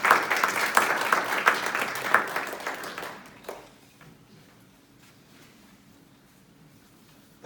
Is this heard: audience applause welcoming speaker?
yes